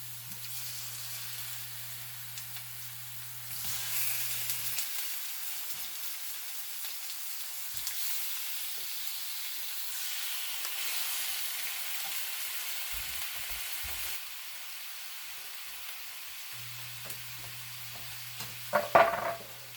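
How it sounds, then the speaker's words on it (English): Food browning in a frying pan, a steady crackling sizzle that runs throughout, with a low hum at the start and end and a few clinks near the close. "we're going to give these a good browning"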